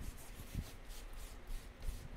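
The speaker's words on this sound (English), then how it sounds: "I got the hand scraper and I am taking the" Hand scraper dragging over a wooden dresser to lift softened lacquer after stripper, a close, continuous rough rubbing with a few heavier strokes and no talk.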